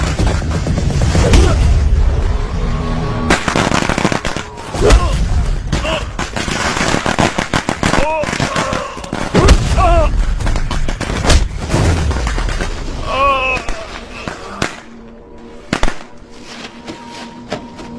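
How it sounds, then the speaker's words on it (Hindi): Sharp cracking bursts of firecrackers going off repeatedly, loud and close, mixed with people talking and general commotion throughout. "अरे एरिया में पटाखा कौन फोड़ रहे रे?"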